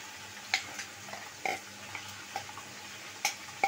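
Roast spice paste being stirred into reddened onions in a pan, with a soft steady sizzle under scattered sharp clinks and scrapes of a utensil against the pan, close and moderately quiet, no talking.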